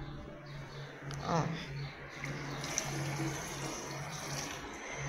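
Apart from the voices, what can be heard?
pouring multipurpose cleaner into a bucket of water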